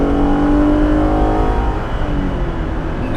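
A Jeep Wrangler Rubicon Xtreme Recon on bigger tires and wheels accelerates hard, its engine a loud, steady, close roar with harmonic tones that climb and shift over a few seconds, with no talk.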